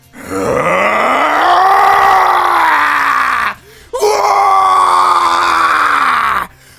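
Dragon Ball anime character screaming in rage, a loud, sustained strained yell lasting over three seconds, a brief gap, then a second long furious roar.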